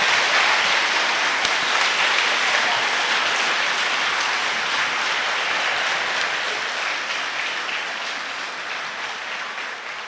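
A school awards-gala audience applauds a student award recipient, sustained dense clapping filling the hall for about ten seconds and tapering slightly toward the end.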